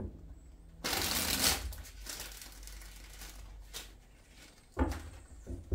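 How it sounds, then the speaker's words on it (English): Tarot cards are shuffled in two quick riffling bursts, close and crisp, separated by a quiet stretch of faint handling. "Last shuffle for you, Aquarius"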